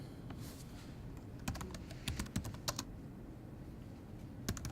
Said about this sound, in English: where you can basically type in your own text